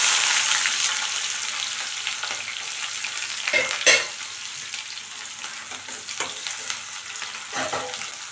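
Chopped onion fries in oil with fenugreek and mustard seeds, giving a loud, close hiss that slowly fades, with a few sharp stirring scrapes along the way.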